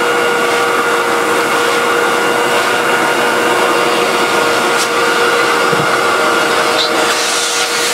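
A vacuum cleaner with its bristles lowered runs at a constant loud roar and whine, steady throughout with slight shifts in pitch as it moves.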